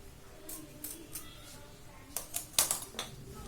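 Scissors snip through blouse fabric in a handful of short, quiet cuts spaced irregularly, close by on a soft surface.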